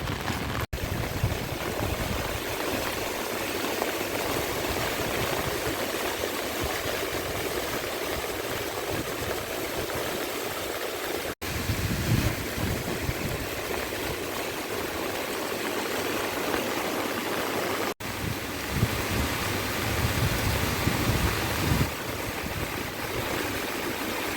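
Flood water rushes continuously and loudly past a low bridge during torrential rain, a steady broad roar of fast-flowing current with no voices.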